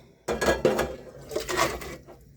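Saucepan swapped onto the stove during a home beef stew cook, a few close metallic clanks and rattles of pots and pans, quiet, with short gaps between knocks.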